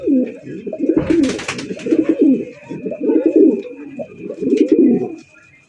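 Racer pigeons coo close by in repeated throaty, rolling phrases, several in rhythmic succession, with a brief rustle and faint chirps behind them.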